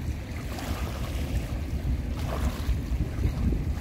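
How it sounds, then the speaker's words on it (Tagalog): Rolling ocean waves build in strength, heard as a continuous, fairly close wash of surf with heavy wind buffeting the microphone, with no voices over it. "Lumalakas na po yung alon."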